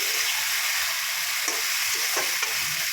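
Potatoes and prawns frying in a pan for a Bengali mocha chingri dish, a steady close sizzle with a few scraping stirs of a spatula, no voices.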